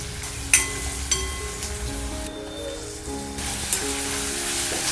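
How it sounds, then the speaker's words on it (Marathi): Onion tempering sizzles steadily in hot oil for a Konkani-style dried fish curry, a continuous close crackle with occasional sharper pops and faint background clatter, no talking. "कांदा कांद्याचं तडका"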